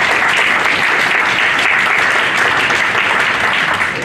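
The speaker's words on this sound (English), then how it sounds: "let's give our keynote speakers today a big round of applause" An audience at a university business school alumni event gives its keynote speakers a loud round of applause, dense and sustained clapping without pause.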